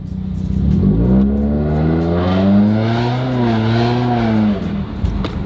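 A Subaru WRX with the FA20 engine pulls hard from close range, its note rising smoothly through the revs for about four seconds before easing off with a short lift and burble.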